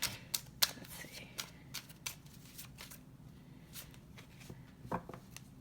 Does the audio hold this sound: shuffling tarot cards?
yes